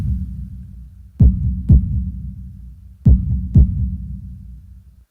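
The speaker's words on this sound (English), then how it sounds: "holding my breath in an attempt to hear my heartbeat." Heartbeat effect from the visual novel Katawa Shoujo: two pairs of close, thudding lub-dub beats over a steady low hum, loud and alone with no voices.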